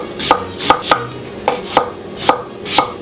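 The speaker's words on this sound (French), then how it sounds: "L'oignon, je le cisèle." Knife mincing an onion on a cutting board for a tourtière, about eight crisp taps in a loose steady rhythm, close and clear with no talking.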